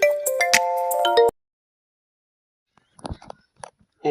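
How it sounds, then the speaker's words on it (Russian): A melodic phone ringtone plays loudly for a little over a second, then cuts off, followed by silence and a few faint handling clicks and rustles. "О, кто-то звонит."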